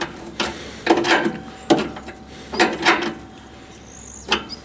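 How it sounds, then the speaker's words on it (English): A bicycle wrench tightens bolts on a Weber Searwood grill rotisserie, giving off scattered metallic clicks and clanks at close range, in irregular bursts with quiet gaps between them. "This is my grandson's bicycle wrench."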